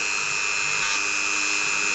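A drill bit boring into a plastic part from a Taurox model kit while magnetising its weapons, a steady close whirring whine that holds constant for the whole stretch.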